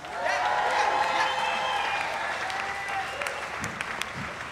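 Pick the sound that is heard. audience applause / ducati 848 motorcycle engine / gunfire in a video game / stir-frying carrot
audience applause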